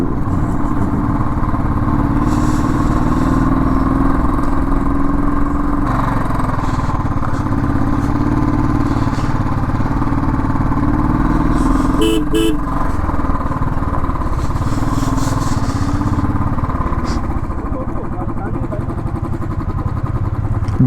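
Motorcycle engine labouring steadily uphill on the mountain road to Tawang in Arunachal Pradesh, losing power, a continuous loud drone with a brief horn-like burst midway.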